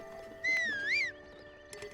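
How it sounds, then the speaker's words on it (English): A horse in the video game Breath of the Wild gives a single whinny, rising and falling for about half a second at moderate volume, with a quiet game backdrop and faint hoof-like ticks afterward. "Is my horse around here?"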